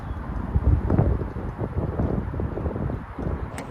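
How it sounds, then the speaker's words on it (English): Steady wind buffets the microphone with low rumbling gusts, loud and continuous, with no one speaking. "it is so windy today"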